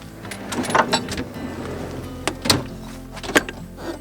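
A car fridge slide in a Toyota LC200 rumbles and clunks as the heavy fridge is pushed along its track, ending with a few sharp knocks.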